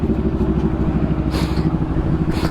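Motorcycles ridden by a group at a moto birthday celebration idle and rumble steadily nearby, with a rhythmic engine pulse and brief hissy bursts on top.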